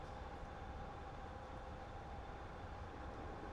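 A Southern Pacific GS-4 steam train rolls past in Train Simulator 2017, a faint, steady rumble of rail wheels and wagons with a thin whistling tone, unbroken for a few seconds.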